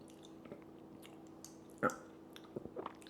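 Close, quiet chewing of a chewy peanut butter protein bar with small crunchy bits, soft wet squishes and a few sharper crunch clicks scattered over a few seconds.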